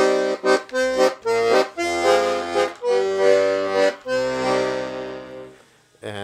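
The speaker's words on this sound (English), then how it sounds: "And we have 48 bass buttons." Hohner Verdi I accordion sounding its 48-button bass side together with treble chords, a bouncy oom-pah pattern of low bass notes and sustained reedy chords, close and full before fading out at the end.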